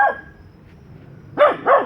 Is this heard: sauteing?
no